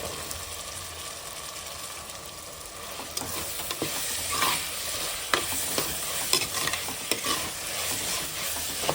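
Steady sizzling of potatoes frying in a pan, with repeated scraping and clinking as they are stirred, growing a bit louder midway.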